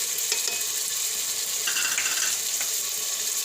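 Tomatoes and turmeric go into a hot oil tempering in a pressure cooker, raising a steady close sizzle broken by a few light stirring clicks and scrapes.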